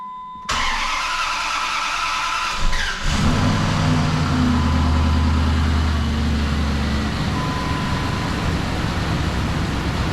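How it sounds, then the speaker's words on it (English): A 2005 Dodge truck, with a freshly installed exhaust manifold, cranks and fires up, then settles into a steady, close, rumbling idle that runs on evenly without talk. "I'm gonna go ahead and fire this thing up real quick and just make sure that there's no other major leaks"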